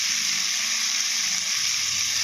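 Turmeric powder sizzling in hot oil in a pan, a steady close hiss of frying that holds evenly throughout with no talk.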